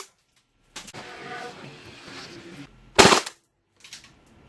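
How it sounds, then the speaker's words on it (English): A Tokyo Marui VP70M airsoft pistol fires a three-shot burst: one sharp, loud cluster of rapid cracks, with mechanical rattling and handling noise before it and a faint click afterward. "Let's see if this does do the 3-shot burst like it's meant to."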